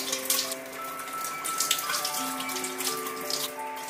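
A kitchen tap runs steadily as a young squab is rinsed under it, the stream splashing and shifting in pitch as the bird is moved through the water.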